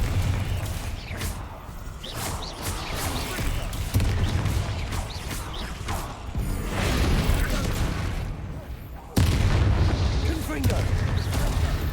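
Confringo spells go off in Hogwarts Legacy as repeated booming blasts amid battle noise, one sharp loud burst near the end, with a voice talking over parts of it.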